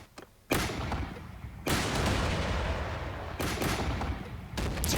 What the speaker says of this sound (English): Basically just a few variations of different cannon shots